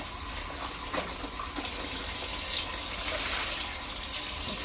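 Reusable plastic freezer bags are rinsed under a running kitchen tap, a steady close hiss of flowing water with small splashes and sloshes, no talking.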